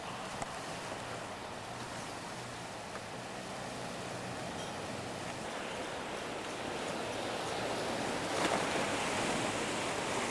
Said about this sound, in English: Some pretty big waves this morning,